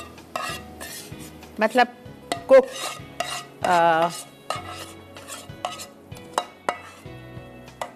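Jaggery syrup stirred into Memoni mathar in a pot off the heat, with clinking spoon knocks and scrapes against metal, a brief wet swirl in the middle, and a few spoken words.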